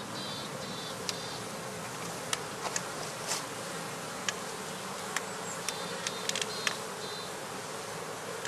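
Honey bees swarm around heather skeps in a spring apiary, their dense, continuous buzz filling the air close by, dotted with sharp clicks and passing individual bees.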